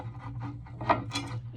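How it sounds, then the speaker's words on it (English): Allen wrench driving screws into a dual-monitor mount and dock, a close, soft rubbing and rasping of metal turning in its hole, with a few brief scraping bursts. "take one of your screws, put the Allen wrench in, and you can start screwing these in here"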